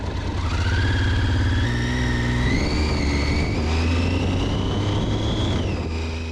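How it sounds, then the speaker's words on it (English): A Triumph motorcycle engine, struggling and running on only two cylinders after possible bad fuel or rain soaking, drones loudly and steadily close by with rising and falling pitch as it labors along a road. "it seemed like it was the end of the Triumph. It was really struggling on 2 cylinders."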